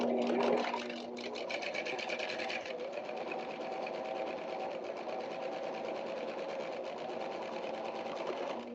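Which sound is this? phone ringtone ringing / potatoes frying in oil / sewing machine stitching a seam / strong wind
sewing machine stitching a seam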